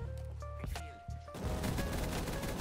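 Weapon fire in a Call of Duty: Black Ops 3 custom zombies map, starting after tonal game sounds and crackling into a dense continuous burst for the last second or so, moderately quiet.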